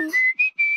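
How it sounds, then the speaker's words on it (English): A cartoon whistle in a short bright tune of two or three clear notes, loud and close and heard alone. "Whistling."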